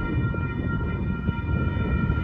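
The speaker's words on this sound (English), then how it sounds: "Here comes that Lockhart sub train." A westbound Union Pacific rock train on the Lockhart sub rumbles toward a road crossing at Wonder World Drive in San Marcos, Texas, with steady rail noise and a faint horn-like tone, no talking.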